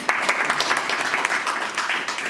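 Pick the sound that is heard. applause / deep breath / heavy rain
applause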